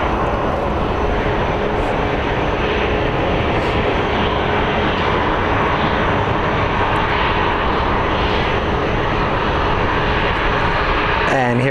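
Jet airliners taxiing and moving at Phoenix Sky Harbor airport, giving off a loud, steady engine roar that stays constant and close throughout.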